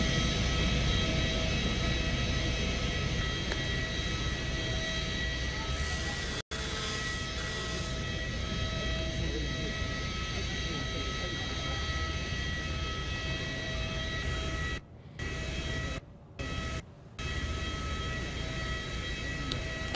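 A presidential aircraft at its arrival ceremony holds a steady, loud engine whine and rumble throughout, with brief dropouts near the end.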